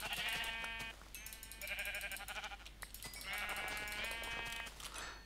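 Sheep in a Minecraft-style video game bleat in a run of loud, wavering calls, several repeated bleats one after another with no talk over them.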